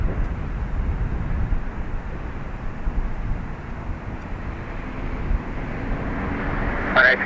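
An ATR turboprop airliner takes off at Dublin Airport, its steady low engine roar filling the air from a distance under radio chatter.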